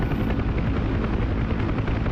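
UH-1 Huey helicopter in the DCS flight simulator game: a loud, steady rotor and turbine roar with a rapid blade chop, continuous and close, with no other sounds.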